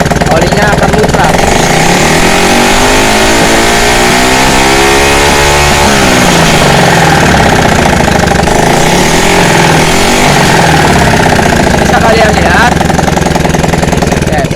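A Honda Revo motorcycle engine is revved with the throttle, a loud, close mechanical roar whose pitch sweeps up and falls back twice while someone speaks over it.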